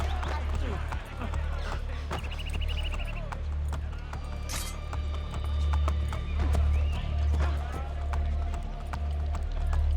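Horse hooves clip-clop at a gallop in Assassin's Creed Brotherhood, with a steady close rhythm, an occasional whinny and a game voice talking over the hoofbeats.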